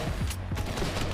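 Gunfire in a shooter video game: dense, continuous bursts of automatic fire rattle loudly throughout, with overlapping shots and no pauses.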